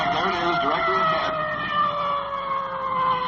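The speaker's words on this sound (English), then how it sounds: "There goes our siren for the intersection." A 1950s emergency vehicle siren sounds at a night-time intersection, a loud steady wail holding and slowly falling in pitch, close and continuous with a faint engine rumble beneath.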